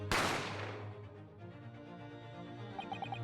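A single sharp gunshot in the game Great Ace Attorney Chronicles cracks loudly at the start, then decays into a long ringing reverberant tail with faint music beneath.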